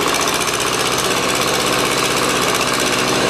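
A tractor fitted with a Kubota engine runs steadily nearby, giving a loud, continuous mechanical drone with rough broadband clatter and no breaks.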